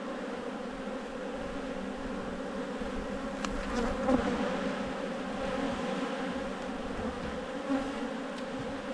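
Honeybees buzz steadily around an open hive, a dense continuous drone with an occasional louder bee passing close by.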